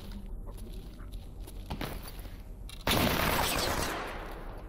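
Gunfire in the video game STALKER Anomaly: faint scattered shots and shuffling, then a sudden loud close blast whose roar lingers and slowly fades.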